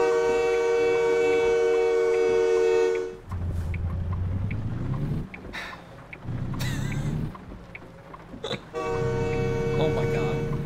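A loud, sustained train horn in American Truck Simulator holds for about three seconds and then cuts off. Low truck engine rumble and scattered knocks follow, and a fainter horn blast returns near the end.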